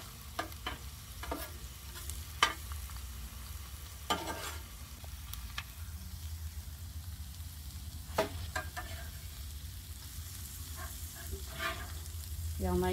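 Shrimp fry under a bacon press in a pan, giving a steady low sizzle over the full stretch, broken by frequent sharp clicks and taps of the press and utensil.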